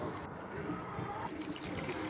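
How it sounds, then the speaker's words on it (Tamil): Water poured gradually into a simmering crab masala gravy on a stove, a soft steady trickle and splash lasting a couple of seconds with no talking. "கொஞ்சம் கொஞ்சமாக நான் தண்ணியை ஆட் பண்ணுறேன்."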